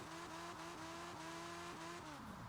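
Supercar sliding backwards in a reverse drift in Forza Horizon 4, with a steady engine drone and stepped gear-like tones under continuous tire squeal, loud and close throughout without talk.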